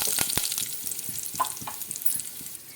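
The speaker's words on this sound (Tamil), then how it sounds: "நமக்கு உளுத்தம்பருப்பும் கடலைப்பருப்பும் நல்லா செவந்து வரணும் அந்த அளவுக்கு நம்ம நல்லா வறுத்து விட்டுடலாம்" Urad dal and chana dal frying in oil with curry leaves, a steady crackling sizzle with small pops and scrapes of stirring, close and moderately loud.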